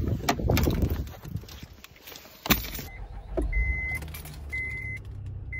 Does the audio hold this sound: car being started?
yes